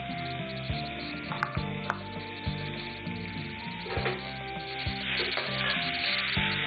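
Garlic paste and green chili frying in a pan for fried rice, giving a steady sizzle with a few sharp clinks and scrapes of stirring throughout.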